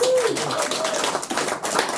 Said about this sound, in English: So round of applause for yourselves.